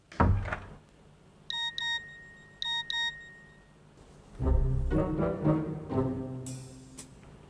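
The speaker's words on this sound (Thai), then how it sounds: "ไม่ใช่เสียงแมสเสจอะจ้ะมันเป็น เสียงนาฬิกาปลุกอะ" An alarm clock repeatedly sounds a ringing tone of short electronic beep bursts in evenly spaced pairs, followed by thuds and a brief clatter, faint overall with no speech.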